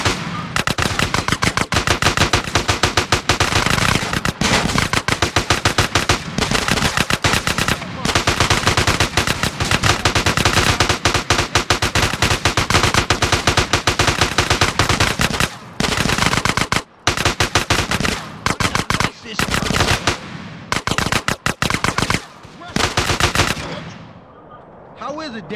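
Sustained, dense automatic gunfire from GTA San Andreas, loud and nearly continuous with rapid bursts and brief gaps, tapering off toward the end.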